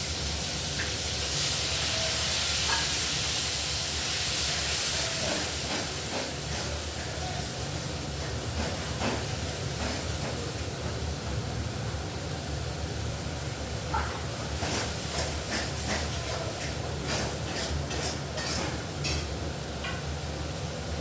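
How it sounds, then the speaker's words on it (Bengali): Tomato and spices fry in hot oil for a potato, brinjal and prawn curry, giving a loud, steady, broadband sizzle and hiss that runs unbroken and close throughout. "আর টমেটোটা গরম তেলে দিয়ে দিচ্ছি, তাহলে টমেটোটা গন্ধ আছে সেটা কেটে যায়।"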